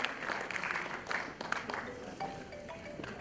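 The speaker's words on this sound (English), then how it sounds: "may we request you to please join in a round of applause" Audience at an alumni conclave applauds to welcome a guest, a dense, fairly quiet wash of clapping with a few sharper claps and faint voices underneath, trailing off toward the end.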